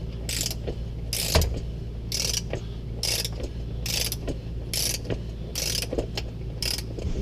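A torque wrench ratchets on a filter during a John Deere 6R hydraulic and transmission filter change, giving repeated rhythmic clicking bursts at an even pace, fairly quiet and close.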